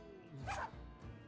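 A single dog bark rings out in the video game BB the Blazing Desert, short and moderately close, followed by a softer yip-like sound in a quiet game scene.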